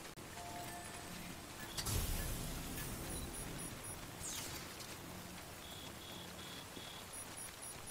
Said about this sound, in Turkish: Yağmur yağıyor Sam.